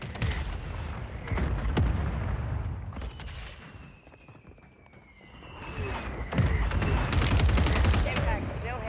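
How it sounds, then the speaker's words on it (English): Gunfire rings out in the Warzone video game on Rebirth Island as sharp, close shots and rapid bursts, fading briefly in the middle before loud volleys return. "Ooh, who's shooting?"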